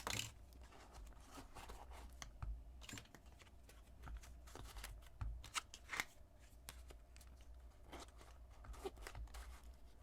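Plastic cards slid and rubbed into the card folio of an iPhone 16 Pro case, giving close, quiet irregular scraping and clicking handling sounds for several seconds with no talk.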